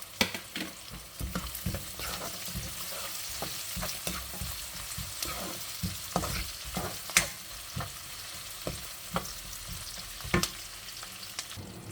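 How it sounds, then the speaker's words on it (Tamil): Onion and garlic sauté in a pan for shrimp curry, with a continuous loud sizzle and frequent sharp scraping stirs throughout. "வெங்காயம் கொஞ்சம் வதங்கிட்டு நான் இந்த பூண்டை போட போகிறேன். பூண்டையும் கொஞ்சம் இதோட சேர்த்து வதக்கணும்."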